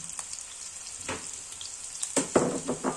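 Garlic hits a hot pan as beef and bottle gourd cook, a steady soft sizzle that swells into louder crackling bursts near the end, heard up close with no talking.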